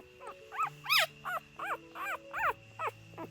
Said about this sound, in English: The puppy whimpered a few times, as if looking for its mother.